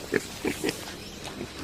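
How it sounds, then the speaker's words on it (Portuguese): A pygmy hog, the world's smallest pig, grunts on the floor of an Indian forest, giving three short, close grunts in quick succession. A few softer snuffles follow. "Trata-se do menor porco do mundo, até recentemente considerado extinto."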